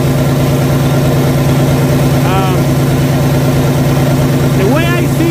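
A PACCAR MX13 truck engine idles with a steady low rumble, loud and close, running with a coolant tank compression leak; brief squeaky chirps rise over the drone near the middle and end.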